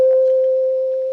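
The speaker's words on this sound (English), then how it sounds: "So I'm just using a one note of music box lo-fi." A single lo-fi music box note rings out as one clean, sustained tone that slowly fades over about a second, alone and fairly loud.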